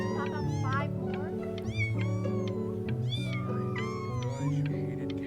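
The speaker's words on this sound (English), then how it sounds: "You just happened to find a stray cat in the alley." A stray cat meows repeatedly in short rising and falling calls, heard close over a loud voice talking and continuous background noise.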